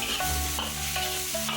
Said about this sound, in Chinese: 把备好的肉片倒入锅中，快速煸除多余的油脂。